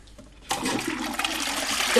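A toilet flushes close by, a sudden rush of water that keeps churning and gurgling loudly after a brief quiet start.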